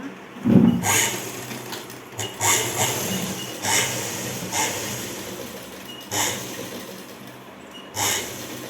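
Sewing machine stitching a folded frock lining, heard as short bursts of whirring and clattering at a steady interval, close and moderately loud with no talking.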